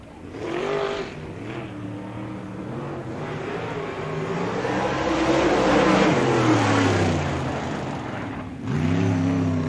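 Dirt track race car number 54 screams through a qualifying lap at Spoon River Speedway, its engine revving up and down through the corners, fading slightly mid-lap and swelling loud again near the end.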